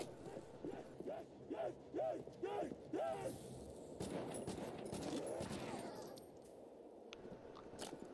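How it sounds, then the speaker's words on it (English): Gunfire in Call of Duty Nuketown zombies, with a burst of rapid shots and clattering game effects in the middle of the stretch after some vocal sounds, followed by quieter in-game noise. "Five shots."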